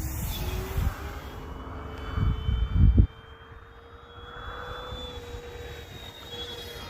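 An FMS P-47 Razorback RC warbird, 1500mm span, passes overhead with a thin, steady electric motor whine that slowly shifts in pitch. A few louder rumbling thumps come near the start, and the motor then continues more quietly.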